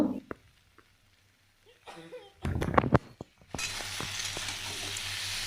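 Spice paste of dried chilli, pepper and coriander with salt and turmeric fries in a pan, quiet stirring scrapes and clinks giving way to a loud, continuous sizzle as it hits the hot oil.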